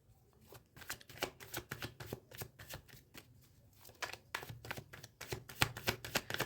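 A tarot card deck is shuffled by hand in quick, soft riffling bursts with brief pauses, close and quiet, with no talking.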